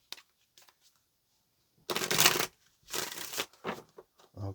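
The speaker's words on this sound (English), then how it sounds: "let's get one more shuffle." A deck of tarot cards is shuffled in short bursts: a long riffle, then several quicker flutters and taps, close up and otherwise quiet.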